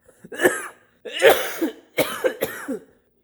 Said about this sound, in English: It's been 2 weeks with this cough